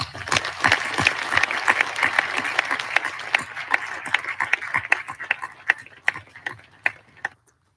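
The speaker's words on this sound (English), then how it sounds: "let's take a moment to give all those loved ones here a round of applause" Applause for military families fills a hall, a dense wave of clapping that thins into scattered individual claps and fades out near the end.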